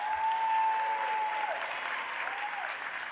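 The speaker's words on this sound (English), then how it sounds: "you can clap for that." A crowd applauds at a Georgia governor campaign speech, giving steady, even clapping heard from a distance at a fairly low level, with no talking over it.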